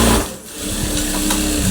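A sewing machine runs steadily while stitching a blouse, its close, continuous whirr dipping briefly near the start and then holding an even level to the end, with no one speaking.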